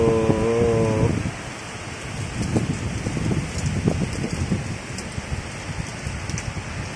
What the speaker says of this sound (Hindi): एकदम मस्त बारिश हो रही है